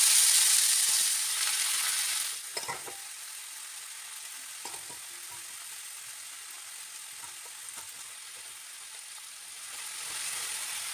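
Small kachki fish frying on a hot tawa give a steady sizzle and hiss that is loudest at first, then settles into a quieter crackle with occasional light clinks and handling noises, close by and with no talk.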